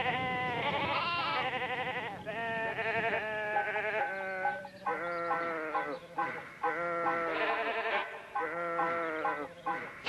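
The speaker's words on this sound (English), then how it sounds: "We are in sheep country." Sheep in open Australian farm country bleat repeatedly in a chorus of overlapping, wavering calls, fairly close and continuous, with short gaps between bursts and no speech.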